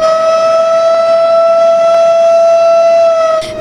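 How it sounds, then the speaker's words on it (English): A tsunami warning siren wails loud and steady on a single sustained tone, holding unbroken for several seconds before fading at the end. "sirens warn of tsunami surges"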